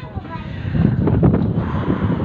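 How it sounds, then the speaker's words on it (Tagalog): Wind on a hilltop buffets the microphone in a low, rushing roar that rises and swells, loud and close, with no speech heard. "Sarap ng hangin dito guys."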